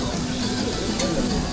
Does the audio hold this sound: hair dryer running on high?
no